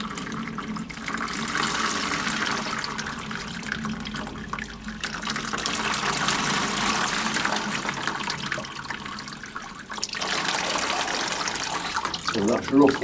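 Water poured and flushed through potted orchids, a steady splashing and trickling flow that runs continuously and close, briefly easing before resuming.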